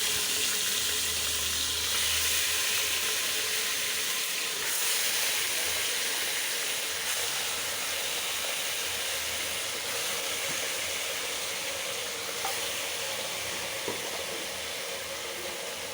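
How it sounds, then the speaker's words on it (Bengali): Qurbani meat fries in hot oil, giving a loud, continuous close-up sizzle and steamy hiss that holds steady throughout, with no voices heard. "এখন আমি মাংসটা দিয়ে দেবো তেলের ভিতরে"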